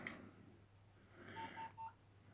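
A short series of three quiet electronic beeps from a Nokia mobile phone being switched on, heard alone against a faint background hum.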